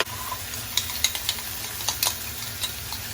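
Meat sears in a paella pan on a stovetop, making a steady sizzle with scattered crackles and light pops throughout, close and continuous, with no voices.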